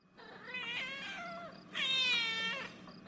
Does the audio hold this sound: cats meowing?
yes